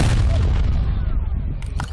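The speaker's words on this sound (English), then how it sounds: "It's a little stub cannon." A small stub cannon fires at Fort Macon with a single heavy, close boom that fills the opening and then decays into a long rumbling echo, with a sharper crack or report near the end.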